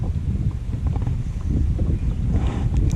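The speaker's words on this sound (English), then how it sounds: "the wind has pushed me off of this." Strong wind gusts buffet the microphone out on muddy water during a bass fishing trip, a steady low rumble with no clear speech.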